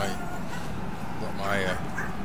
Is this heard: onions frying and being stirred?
no